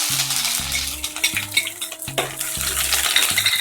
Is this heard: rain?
no